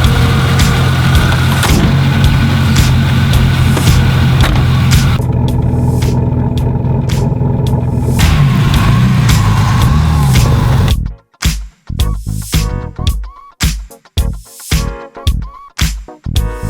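A Pontiac Turbo Grand Prix engine runs steadily at idle, a loud close mechanical hum, then gives way to a series of sharp intermittent rattling or clicking pulses.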